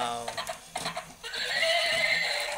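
A toy horse plays a loud, close neighing whinny followed by rhythmic clip-clop hoof beats, with a voice talking over parts of it.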